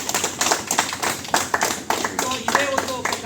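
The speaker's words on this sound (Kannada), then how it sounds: "ಅವ್ರಿಗೆ ನಾವು ಚಪ್ಪಾಳೆ ಮುಖಾಂತರ ನಮ್ಮ ಧನ್ಯವಾದಗಳನ್ನು ಕೊಡ್ತೇವೆ." Audience clapping at a college Gandhi Jayanti cleanliness event in Pavagada, a lively patter of hands with uneven peaks, fairly close and loud, with a voice speaking over it.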